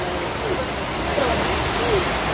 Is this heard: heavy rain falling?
yes